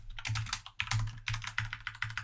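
Code is typed quickly on a computer keyboard: dense, uneven bursts of close keystroke clicks with a few short pauses between runs.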